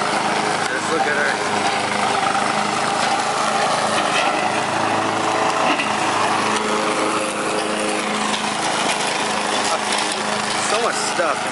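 A ride-on lawn mower engine drones steadily and loudly while cutting grass, a constant close buzzing with voices faintly present over it.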